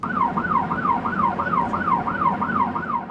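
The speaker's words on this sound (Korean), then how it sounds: "새벽 6시, 조업 시작 사이렌이 울리고" A dawn siren signalling the start of octopus fishing wails in a steady, rhythmic rise and fall, loud and continuous, with a low engine-like rumble beneath and no talk.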